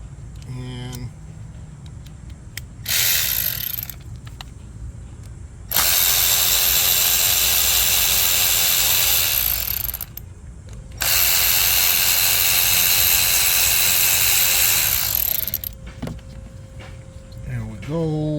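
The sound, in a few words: ratchet removing Torx bolts from Mercedes CLS 400 ignition coil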